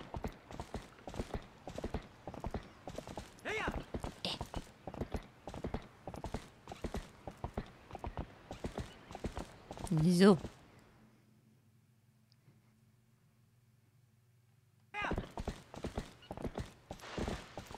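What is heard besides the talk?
horse galloping in the video game Zelda: Twilight Princess HD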